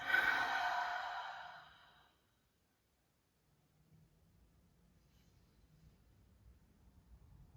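One long, deep breath drawn out in a yin yoga meditation, a close, airy exhale lasting about two seconds before fading into near silence and faint room noise.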